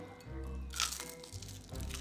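A thin, crunchy cheddar chaffle is bitten into and chewed close up. A few crisp cracking crunches sound over a low background murmur.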